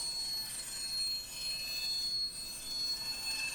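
An old bandsaw fitted with a stop block cuts through wood, giving a steady, close, noisy rush with thin high whining squeals running through it and no voices.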